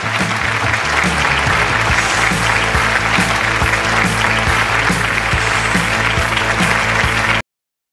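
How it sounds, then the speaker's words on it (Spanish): A studio audience applauds a footballer guest on a talk show, loud sustained clapping close up, running unbroken for about seven seconds before stopping abruptly. "No, un aplauso, a Pablo."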